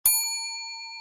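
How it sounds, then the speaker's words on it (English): A bell is struck once. The sharp, bright ding rings on alone and fades slowly over about a second. "That's the sound of the bell that I ring"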